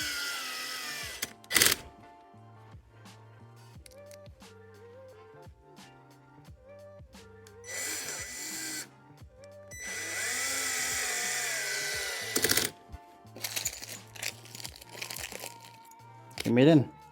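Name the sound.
screwing shoe cabinet panel in place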